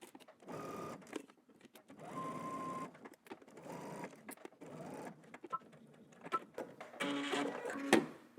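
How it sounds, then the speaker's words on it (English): Home sewing machine stitching a 5/8-inch seam on a garment, stopping at a marked dot, in several short whirring bursts with pauses between them and a few clicks and rustles of handling near the end. "we're gonna stitch using 5/8 of an inch seam allowance, stopping at the dot"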